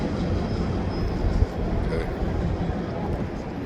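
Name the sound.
freight train passing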